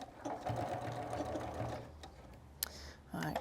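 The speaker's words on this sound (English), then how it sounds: "put your foot back down and sew over that last narrow end of the tape" Sewing machine running steadily for about two seconds as it stitches over the narrow end of fabric tape on a homemade cotton face mask, a close, continuous motor whir that pauses briefly with a click before starting again.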